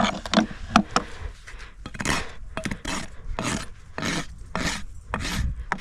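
A rasp files and bevels the edge of a horse's hoof during trimming, in repeated rough scraping strokes, close and distinct, with short pauses between passes.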